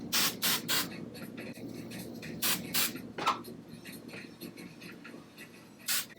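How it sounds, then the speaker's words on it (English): Hairspray misted lightly over freshly curled loose waves, heard as several short airy hisses spaced across a few seconds, close and soft, with no talking. "I'm just going to give it a really light spray."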